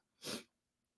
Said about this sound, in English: Trying to hold that damn motherfucking sneeze